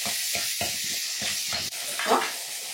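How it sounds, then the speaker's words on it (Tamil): Onions and tomatoes sautéing in a pan for a Chettinad fish curry, a soft steady sizzle broken by rhythmic scraping stirs, about five strokes, then a brief louder hiss. "இது வெங்காயம் தக்காளி வதங்கிடுச்சு, நல்லா வதங்கிடுச்சு"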